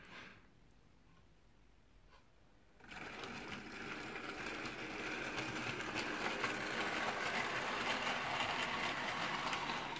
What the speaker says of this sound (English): my little freight train's ready for departure.